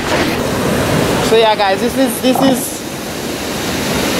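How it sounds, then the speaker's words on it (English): The most powerful river in Dominica rushing steadily, a loud continuous roar of water with someone talking briefly over it. "so that's the most powerful river in Dominica"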